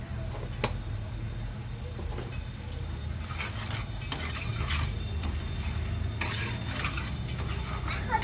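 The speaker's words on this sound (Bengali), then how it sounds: "একটু মশলাটা নেড়ে নিতে হবে" Spices with turmeric and cumin being stirred in a hot pan, a steady scraping and shuffling over a low sizzle of frying, with occasional clinks of a utensil against the pan and no talking.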